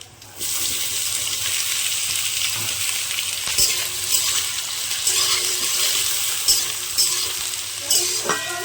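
Chopped raw onion dropped into hot oil with dried red chili and bay leaves, sizzling steadily and loudly up close, with occasional stirring scrapes and no talk.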